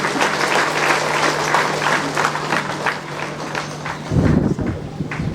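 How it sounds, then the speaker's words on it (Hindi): A hall audience claps steadily to welcome a priest to the stage at a leprosy centre's golden jubilee celebration, dense and sustained applause with a louder, closer burst near the end. "हम सभी तालियों के साथ फादर का मंच पर स्वागत करते हैं।"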